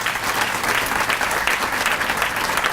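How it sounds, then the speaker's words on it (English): A civic-event audience claps for a sponsor, Paramount Petroleum, steady, full applause from many people in a hall, continuous and fairly loud throughout. "If I can get a round of applause for them."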